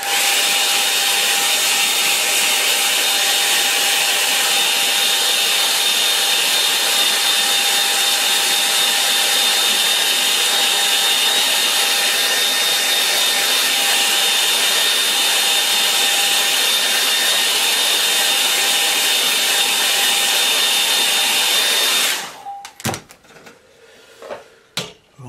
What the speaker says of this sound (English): I'm going to dry it all off now